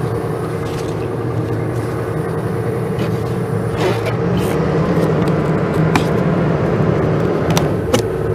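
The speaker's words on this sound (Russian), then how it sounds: "вот компрессор нам сигнализирует, что готов к работе" A portable ET-Compressors ET SD-390T-10 diesel air compressor runs with a steady, loud engine drone and a constant low hum, with a few light clicks over the top.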